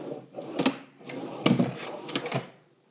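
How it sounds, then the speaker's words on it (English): A drawer slide being fitted rattles back and forth as it seats, with a few short, sharp clicks and clacks close by as it locks into place. "You'll hear it click, that's locking into place"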